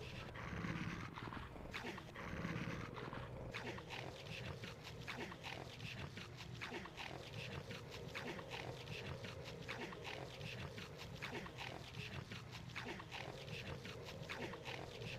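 Monster dogs in Silent Hill 3 chew wetly with low snarling growls, a dense continuous gnawing and grunting texture that stays steady and fairly loud throughout.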